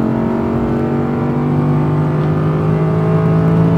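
A V10 Audi R8 engine accelerates on a driving track, producing a loud, continuous, rising drone that holds steady and close throughout.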